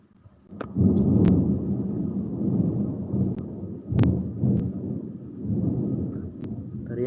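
Thunder rumbles through heavy rain in long, low rolling swells, with a few sharp cracks and taps breaking through, loud and close for several seconds.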